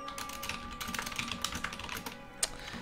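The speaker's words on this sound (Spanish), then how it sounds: "Es que no me acostumbro del todo a volver a utilizar un teclado normal." Rapid typing on a standard computer keyboard, a dense stream of light clicking keystrokes heard close, with one slightly louder key press near the end.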